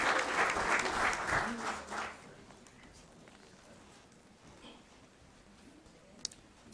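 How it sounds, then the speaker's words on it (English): Applause from the audience at a city council meeting rises loudly for about two seconds and then fades into quieter room noise. "Let's give him one more round of applause."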